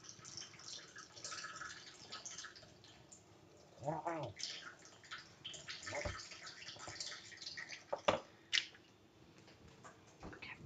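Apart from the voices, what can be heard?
water being drained off cooking pot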